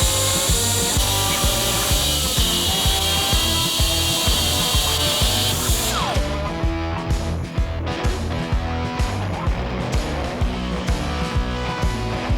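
A power tool cuts parts for a custom Harley Sportster flat tracker seat tail, a loud continuous grinding, sawing drone with steady rhythmic pulses that shifts tone halfway through, close by and without talk.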